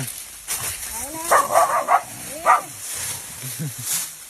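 A dog barks a few times in quick yips and short woofs, close by and fairly loud, with pauses between the barks and faint background noise.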